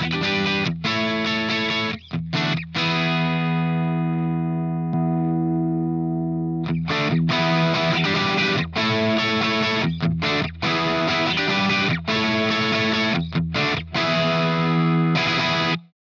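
Electric guitar through an Analogman King of Tone overdrive pedal plays chords and single notes, loud and continuous, with a long sustained ring-out in the middle before hard strumming resumes.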